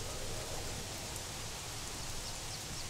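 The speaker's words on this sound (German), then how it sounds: "Ich habe irgendwie immer das Pech, dass es tags regnet und nachts dunkel ist." Rain in the video game Gothic III, a steady faint hiss of falling rain with no voices.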